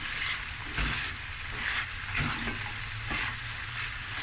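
Lamb fried rice frying in a pan gives a steady, dense sizzle with a few louder stirring bursts, heard close and alone throughout.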